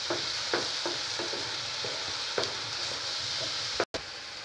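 Tomato paste being stirred into masala frying in oil for a homemade fish curry, with a steady sizzle and repeated scraping strokes of the spoon against the pan, close and clear, with no talking.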